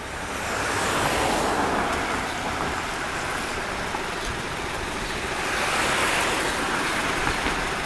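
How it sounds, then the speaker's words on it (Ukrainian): A trolleybus pulls away from a city stop, a broad steady road rumble and hiss that swells slightly and fades, heard from the roadside with no voices. "як тролейбус поїхав далі. Від'їхав від нашої зупинки."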